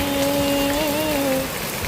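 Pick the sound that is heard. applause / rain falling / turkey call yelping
rain falling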